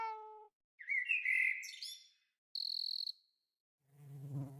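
A short sequence of distinct creature sounds, including a bright, clean cricket chirp in the middle, separated by silences; synthetic and clear, with no talking.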